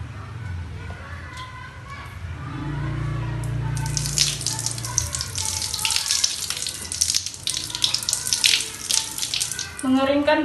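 Hands being washed under a running tap, water splashing and gushing steadily at close range through most of the stretch, with a faint voice in the background.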